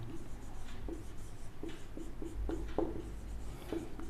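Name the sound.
writing during maths lesson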